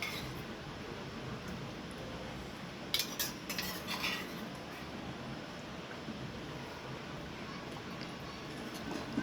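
Homemade curd spooned into cooled spice masala and stirred, faint metal spoon clinks against a pot in a short cluster, otherwise quiet and steady.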